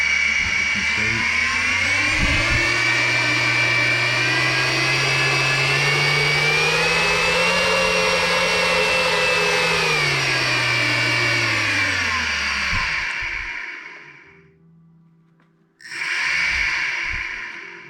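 A small RC brushless motor driven by an ESC on a test bench whines steadily, its pitch rising and sagging before cutting out for a moment and then spinning up again, loud and close with no talk.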